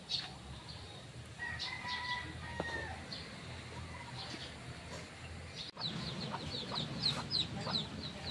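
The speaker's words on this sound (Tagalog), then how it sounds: "pwede ka mag-alaga dito ng mga manok" Chickens cluck and chatter in the background of an outdoor scene in Albay province, Philippines, with scattered bird calls and quick repeated chirps near the end.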